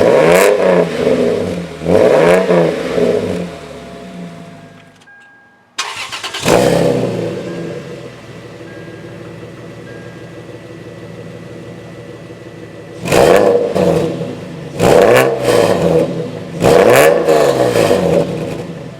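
2001–2005 Lexus IS300 with catless headers and downpipe, revved in loud, sharp bursts with a gap where the engine stops and restarts, then settles into a steady idle before more throttle blips.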